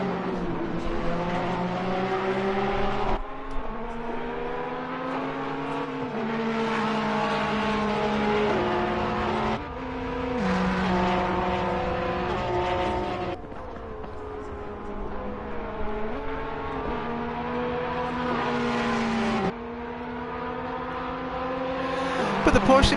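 Porsche and Ferrari GT3 race cars lapping Donnington Park in a racing video game, their engines droning loudly with rising and falling revs and gear shifts throughout, a commentator talking over them.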